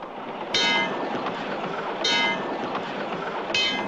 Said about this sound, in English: And riding on subways.